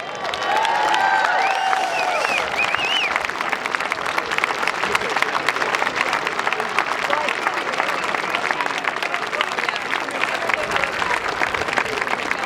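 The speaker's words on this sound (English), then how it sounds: "please join me in a round of applause for Lieutenant General Retired E. Lee" A large crowd at a West Point alumni parade applauds the oldest living graduate, a retired lieutenant general, with dense, sustained clapping that runs unbroken throughout, plus a few scattered voices and cheers near the start.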